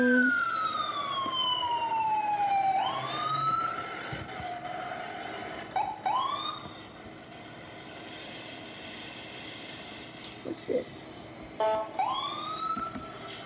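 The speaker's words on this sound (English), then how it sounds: "I'm in my ambulance." Siren wail from an ambulance in a video game, sweeping up and down in repeated cycles with a few brief breaks, loud and close over a steady engine-like background hum.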